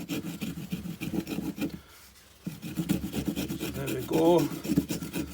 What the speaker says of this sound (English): Another thing I want to try it for is debarking.